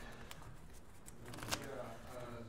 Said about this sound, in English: Shuffling once more for luck.